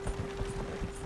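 Horse hooves clop in a quick, even rhythm as the animal pulls a cart in Red Dead Redemption 2, a brief run of close, steady beats with no voices.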